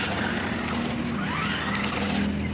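A Swaraj 855 tractor on the move, its engine giving a steady, close drone with a shifting tone throughout, loud and unbroken, no talk over it.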